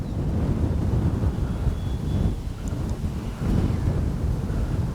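Strong, constant wind buffeting an outdoor microphone at a model RC jet flying field, a loud low rumble that surges and dips over a few seconds.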